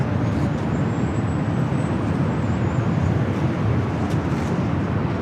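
Jet airliners at LAX, including Dreamliners, taxi toward the north side for takeoff, a broad steady roar of distant engines with a faint rising whine, continuous and unbroken.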